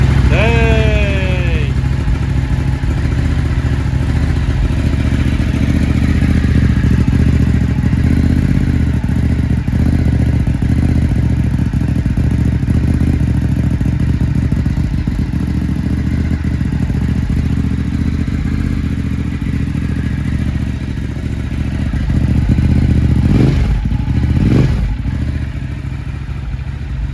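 A Ducati Hypermotard 939 SP motorcycle with a freshly flashed ECU tune is started and keeps running close by, making a loud, steady engine drone.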